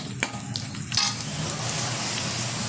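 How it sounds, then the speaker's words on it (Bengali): Slit green chilies fry in hot oil for chili chicken, giving a steady, close sizzle with a few quick stirring scrapes early on and no talking. "এখন এর মধ্যে দিয়ে দেব কয়েকটা কাঁচা লঙ্কা চিড়ে রাখা"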